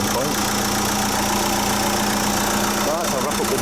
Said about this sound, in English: I'll just leave this engine running for a bit longer